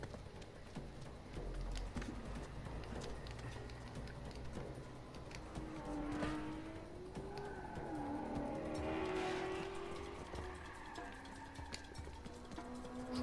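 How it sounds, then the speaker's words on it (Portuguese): Cars speed past in the Uncharted 4 video game, a continuous engine roar with rising and falling whines as vehicles rush by, moderately loud and steady throughout. "Os carros em grande velocidade, pessoal."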